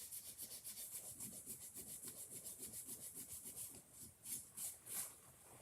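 Bendable wood on a home decor piece being rubbed hard by hand, a quiet rhythmic back-and-forth scraping with a steady pulse of strokes that slows and spaces out toward the end, with no voices.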